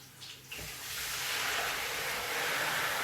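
Blended pepper for party jollof rice is poured into a pot on the stove, a soft liquid splash that swells into a steady, hissing pour.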